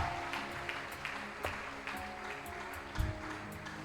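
A church congregation claps during a revival service. Moderate, steady applause echoes through the room, with a few sharper claps and a brief thump near the end.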